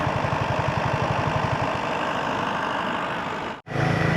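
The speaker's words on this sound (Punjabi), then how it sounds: "ਇਹ ਜਨਰੇਟਰ ਚੱਲ ਰਿਹਾ" A generator engine idles with a steady, rhythmic low thrum near the seashore in Ratnagiri, Maharashtra, continuing nearly throughout, cutting out briefly for a moment before resuming.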